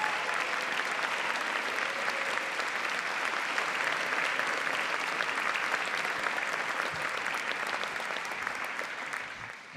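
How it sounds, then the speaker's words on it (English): Sustained applause from an audience at an education service honors ceremony, steady dense clapping for nearly ten seconds that fades slightly toward the end. "can we invite them to stand up and get a round of applause?"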